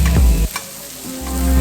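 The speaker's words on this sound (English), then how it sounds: "dad is frying onions and cooking other fish" Onions fry in a pan alongside fish, giving a loud, close, continuous sizzle that drops away briefly mid-clip, then swells back as stirring resumes.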